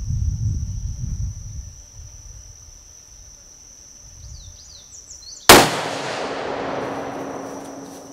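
A 7mm-300 Norma Mag rifle with a Trigger Tech trigger fires a single loud test shot outdoors, the sharp blast trailing into a long rolling echo, with insects chirping before it.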